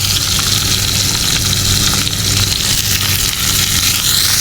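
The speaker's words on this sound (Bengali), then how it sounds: "পেঁয়াজগুলো ভেজে নিতে হবে" Onions frying in hot oil in a wok, a loud dense sizzle that holds steady and close throughout with no voices.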